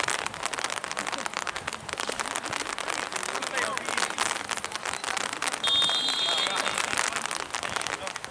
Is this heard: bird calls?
no